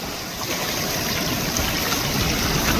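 Strong sea waves wash steadily along the shore at Akumal, Mexico, a loud, continuous rush of water with no voices.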